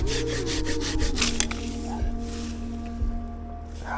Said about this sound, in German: Ich säge ihn mal hier unten ab.